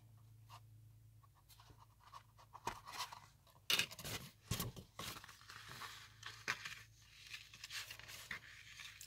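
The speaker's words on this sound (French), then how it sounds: "C'est avec les ciseaux." Scissors snip through fabric while sewing a pouch, with faint scattered cuts, rustling and handling noises close by in a quiet room.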